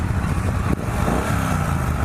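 Engine of a Triumph Bonneville T120 motorcycle, a loud, steady, low rumbling idle that carries on throughout.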